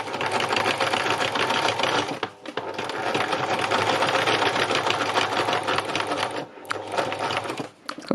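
A sewing machine stitches through many layers of fabric, running loud and steady in long bursts with two brief pauses, close by and without talk.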